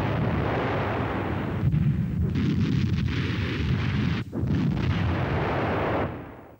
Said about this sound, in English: Support for the Fallschirmjäger is being provided by a battery of 17-centimetre K-18 heavy